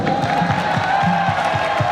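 Crowd at a Chhattisgarh folk performance cheering and clapping, a steady dense roar of applause with scattered whoops, continuous and fairly loud throughout.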